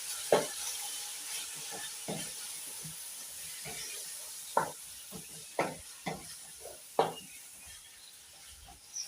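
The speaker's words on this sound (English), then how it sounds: "And let us stir." Beef biryani being stirred in a sizzling pot: a soft hiss of frying runs beneath irregular scraping knocks of a spoon against the pot, close and fairly quiet, with no talking.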